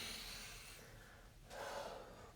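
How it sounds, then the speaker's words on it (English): A slow, deep breath drawn in and let out close to the microphone, a soft airy hiss that swells, dips for a moment, then rises again with no talking. "let's go ahead and take a deep breath"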